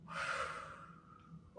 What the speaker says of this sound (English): Take a few deep breaths first, though.